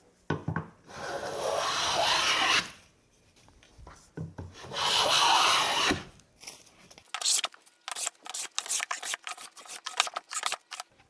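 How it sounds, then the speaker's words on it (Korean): A hand plane shaves a wooden board braced against a planing stop on a workbench. Two long, rasping strokes come first, then a quick run of shorter scraping passes, all close and clear. "이런 판재를 대패질을 할 때는 이렇게 플레이닝 스탑을 앞에 놓고"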